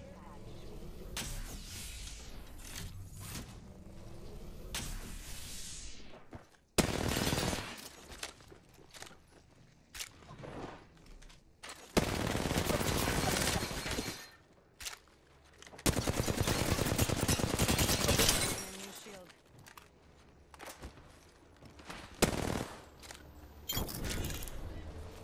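Bursts of automatic gunfire from a shooter video game, several loud sustained volleys separated by quieter stretches with footsteps and clatter, a voice talking in between.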